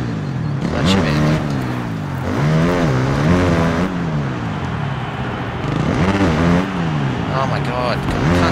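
Motocross bike engine in the Monster Energy Supercross video game at Rice-Eccles Stadium, Salt Lake City, revving and dropping in repeated rising and falling sweeps, loud and close throughout, with speech over it.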